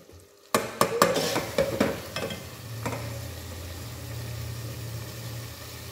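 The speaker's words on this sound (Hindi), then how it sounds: "ये देखिए टमाटर की भुनाई होना शुरू हो गई" Tomatoes frying in a pan on high heat: a few clattering stirs against the pan give way to a steady, close sizzle that continues on its own.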